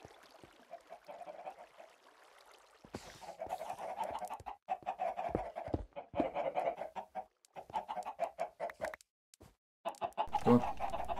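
Video-game chickens cluck in repeated short bursts that start quietly and turn loud and busy partway through, with brief gaps between the clusters of calls.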